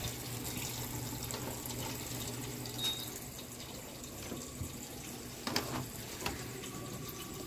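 Electrolux LPR top-load washing machine filling with water for a load of bed sheets, a steady rushing inflow with faint knocks and clicks throughout, fairly close.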